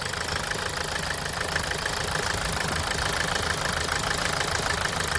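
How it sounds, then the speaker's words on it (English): A Toyota Corolla Verso with the 2.2 2AD-FTV diesel engine idles steadily, a close, even diesel rumble with a fine knocking texture and nothing else over it. "As you can see, I have started the engine is running."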